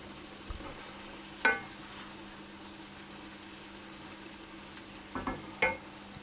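Vegetables for ratatouille sizzling softly in a pan, a quiet steady fry under a low hum, broken by a few sharp spoon-on-pan clinks as they are stirred.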